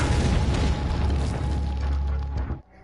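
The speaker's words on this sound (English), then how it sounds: "why don't we throw the first grenade, right?" A grenade blast in Resident Evil 4, a loud, close, rumbling explosion that roars for over two seconds before cutting off abruptly into near silence.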